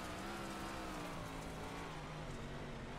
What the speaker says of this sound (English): you can hear that car working against the bumps